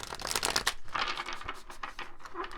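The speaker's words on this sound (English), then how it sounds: "For some reason, I feel like shuffling one more time." Tarot cards are shuffled close up, a rapid run of papery riffling and flicking bursts in uneven clusters.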